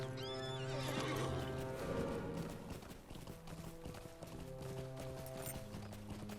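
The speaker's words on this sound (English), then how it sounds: "Get on my horse and travel a little bit." Horse in the video game Lord of the Rings Online, a whinny at the start followed by rhythmic clip-clopping hoofbeats, with tonal game music underneath.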